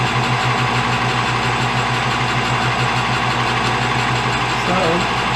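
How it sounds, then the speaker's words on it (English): A newly wired metal lathe runs steadily in a workshop, giving a constant loud motor hum with a regular pulsing drone throughout. "Let you see the lathe running."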